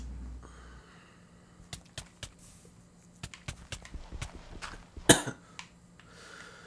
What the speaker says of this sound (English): I'm partially sick, guys, so I'm sorry if my coughing annoys you.